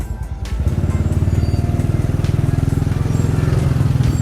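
A 2002 Honda Legenda motorcycle engine idles and putters close by with a steady rapid pulsing rhythm, starting after a brief moment and running loudly throughout.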